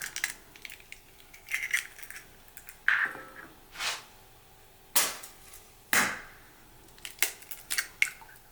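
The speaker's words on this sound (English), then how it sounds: "We're going to start by breaking an egg on our mixing bowl" An egg is cracked on the rim of a mixing bowl while making chocolate muffins and butter marble cake, giving a handful of sharp, close taps and cracks spread over several seconds in a quiet room.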